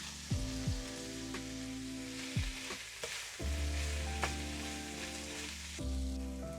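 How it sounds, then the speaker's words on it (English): Carrots and peppers fry in a deglazed pan for Filipino beef kaldereta, with a steady close sizzle and bursts of stirring and scraping that come and go. "I'll add my carrots and peppers"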